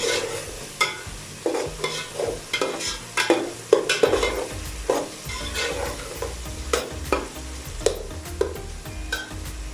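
Keema masala spices fry in a pan for keema pulao, a steady sizzle broken by repeated scraping stirs of a spoon against the pan, close and fairly loud with no talking.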